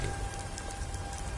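Steady rain falls in Skyrim, a continuous soft hiss and patter that stays even throughout, fairly quiet, with no voices over it.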